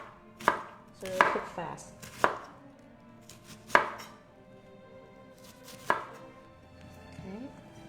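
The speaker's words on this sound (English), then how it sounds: "You can cut them as wide or narrow as you like. I'm cutting them a little bit skinny" Knife chopping vegetables into thin, skinny strips on a cutting board: a handful of sharp, separate blade strikes spaced irregularly, close and clear over quiet kitchen background, with a voice speaking briefly.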